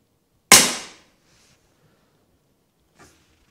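A single sharp, loud crack from an LCS SK19 regulated semi-automatic PCP air rifle, decaying within half a second, followed by a faint, short click a few seconds later.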